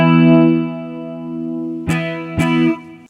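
A sustained electric guitar chord through a clean chorus plugin, with a shimmering, slightly wavering tone, followed by two sharp strums that ring out briefly before cutting off.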